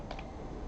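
A short burst of typing on a computer keyboard, a few quick close key taps in under a second.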